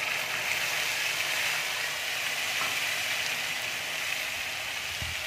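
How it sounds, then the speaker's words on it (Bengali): Garlic and green chili paste sizzling steadily in hot oil with bottle gourd leaf paste, a close, even frying hiss that holds at the same level throughout, with no talk. "রসুন লঙ্কা বাটাটা দিয়ে দিচ্ছি।"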